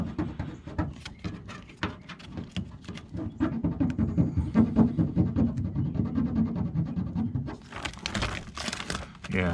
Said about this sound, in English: They were wanting to peel off the paper